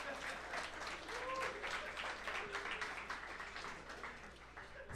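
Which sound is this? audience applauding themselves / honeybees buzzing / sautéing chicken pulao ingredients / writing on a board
audience applauding themselves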